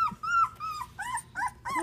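A newborn puppy, one of a litter of boys, whimpers and whines in short high squeaks after being woken by a puff of air, close and alone.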